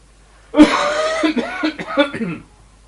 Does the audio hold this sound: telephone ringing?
no